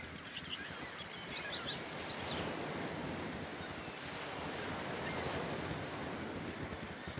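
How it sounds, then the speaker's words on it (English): Waves wash and a breeze blows at a cliff edge by the water in Baldur's Gate. The surf gives a soft, steady roar at low volume, with a few faint bird chirps early on. "listening to the breeze and the birds and the waves, because we're near the water, on the cliff edge"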